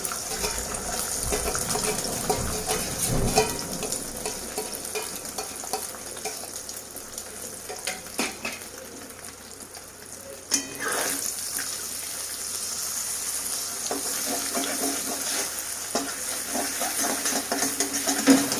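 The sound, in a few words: beaten egg frying in hot oil in a wok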